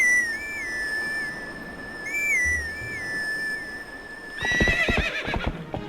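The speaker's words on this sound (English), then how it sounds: "Horse call." In the video game The Legend of Zelda: Twilight Princess, a whistled horse call is played twice, then a horse whinnies loudly nearby in a quick, rising burst near the end, with no talking.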